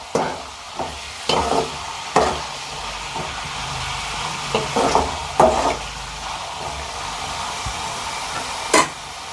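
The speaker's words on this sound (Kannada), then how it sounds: "ಇವಾಗ ಈರುಳ್ಳಿನ ಚೆನ್ನಾಗಿ ಫ್ರೈ ಮಾಡ್ಕೊಳ್ಳೋಣ" Onions frying in a pan for a Malnad-style bamboo shoot curry, with a steady sizzle broken by several sharp scraping stirs of a spatula, close and alone.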